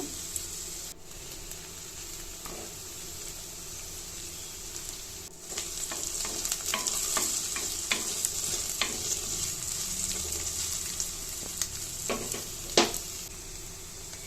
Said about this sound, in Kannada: ಈರುಳ್ಳಿ ಹಾಕ್ಕೊಳ್ತಿದ್ದೀನಿ ಇದನ್ನು ಫ್ರೈ ಮಾಡ್ಕೋಬೇಕು